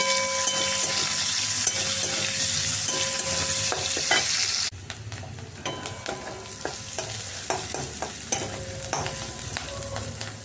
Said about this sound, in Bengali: এবারে পেঁয়াজটা দিয়ে দিলাম। পেঁয়াজটা লাল লাল করে ভাজবো।